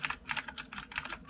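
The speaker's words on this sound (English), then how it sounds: "here's my keyboard, my favorite keyboard. And here, so this is what it sounds like" A favorite computer keyboard typed on at close range, a quick irregular run of crisp clicking keystrokes with no voice.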